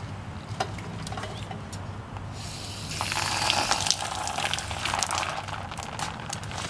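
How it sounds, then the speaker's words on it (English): Water runs over a plastic car headlight being rinsed during restoration with a Sylvania kit, a steady tap-like flow that swells louder partway through and continues to the end, with no talk. "So I'm just going to rinse it off."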